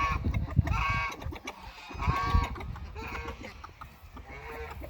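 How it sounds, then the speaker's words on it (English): An escaped goose honks and clucks on a farm with ducks, a few loud, close, nasal calls in uneven bursts and quieter grumbling between them. "Hey, Mr. Goose"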